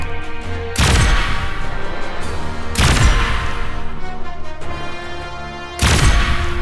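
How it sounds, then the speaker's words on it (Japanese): Taser gun shots in the video game Arknights: three loud, sharp blasts spaced a couple of seconds apart, each a sudden crack with a ringing tail, over a low game backdrop. "このテーザー銃の威力見せてやるのだ。"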